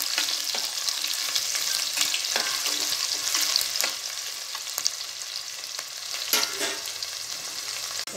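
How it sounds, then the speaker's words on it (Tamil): Onions sizzling in hot oil after mustard seeds have popped, a dense, continuous close frying hiss with occasional stirring scrapes and crackles. "வெங்காயம் போட்டுக்கலாம். இது வதங்கட்டும்."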